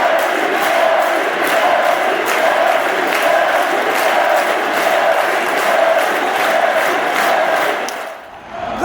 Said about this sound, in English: listen to this crowd. This is the first pitch, and like people are going nuts.